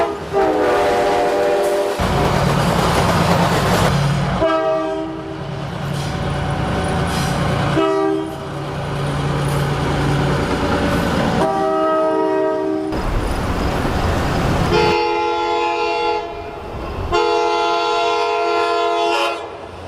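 Long Island Rail Road locomotive sounding a Nathan AirChime air horn, long loud chime blasts repeated in several sustained bursts with brief gaps, over rumbling rail noise and clickety-clack.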